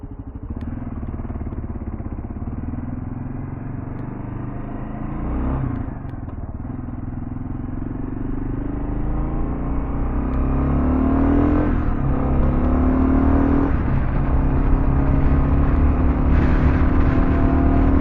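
A Kawasaki KLR650 dual sport motorcycle on Shinko 244 tires rides steadily, its engine droning and clattering throughout and swelling with a few revs, growing louder toward the end.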